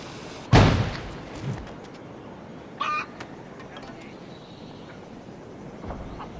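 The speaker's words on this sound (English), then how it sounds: "Grenade!" A grenade goes off in Assassin's Creed Rogue Remastered with one loud, close blast near the start that quickly decays, followed by quieter game ambience and a brief voice-like sound.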